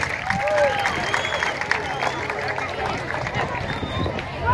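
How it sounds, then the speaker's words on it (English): Audience at a Compton Unified School District STEM education day applauds for Mr. Pengrave, a dense sustained wash of clapping with some cheering that runs the whole stretch at steady loudness, with voices mixed in. "So I'd like everybody to give Mr. Pengrave a round of applause, please"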